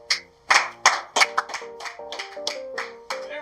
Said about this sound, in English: Everybody's clapping at this dancing dog